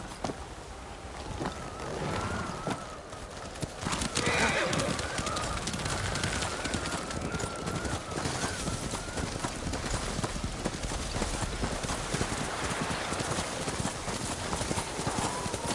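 Horse hooves clop steadily in a continuous rhythm in the video game Ghost of Tsushima, loud and close, with ambient noise beneath them and a few bird-like calls in the mix.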